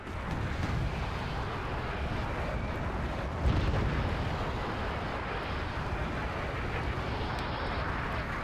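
Artillery shells slamming into a mountainside in the video game Wargame Red Dragon, a steady dense rumble of distant impacts and booms with one heavier thud partway through, continuous and broad with no talk.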